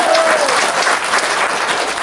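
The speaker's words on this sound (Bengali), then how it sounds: "সবাই জুড়ে হাততালি দেন" An audience applauding at a celebration program held by the Palli Agro project, a dense, loud burst of many hands clapping together throughout.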